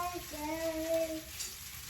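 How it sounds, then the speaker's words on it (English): Carrots and potatoes being stirred together in a pot for a balsamic pot roast, giving a soft, steady scraping and sizzling texture throughout, close and moderately quiet, with no talking. "now I am just putting in our carrots and our potatoes. Just gonna mix them up a little bit."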